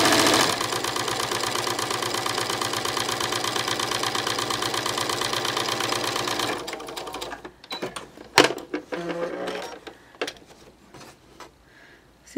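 A sewing machine fitted with an edge joining foot runs steadily for about six seconds, its fast, even stitching rhythm clear and close, then stops and gives way to scattered handling clicks and fabric rustles.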